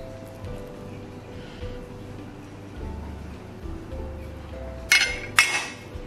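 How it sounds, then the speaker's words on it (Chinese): A knife scores a cross pattern into soaked, squeezed shiitake mushrooms on a board, with a quiet low background broken by two sharp, close knocks. "然后给它切十字花刀"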